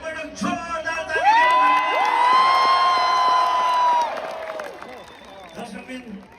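A concert crowd at an open-air show on a campus ground cheers, whoops and claps loudly, the roar rising and sustained for a few seconds before tapering off, with long sung or shouted tones carried above it.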